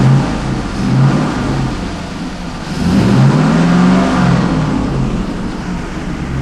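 Engine of a 2000 Pontiac Trans Am revving under throttle, a loud, steady drone that rises and falls with the pedal, with no talking.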